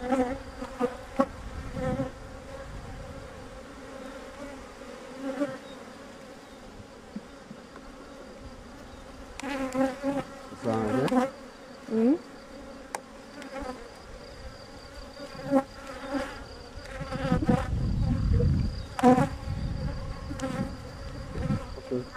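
A steady hum of many honeybees buzzing close around a hive, with individual insects swooping past louder at times, continuous throughout.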